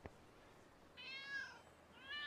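A cartoon cat meows twice in the video game Lego City Undercover, two soft drawn-out meows over quiet game background noise.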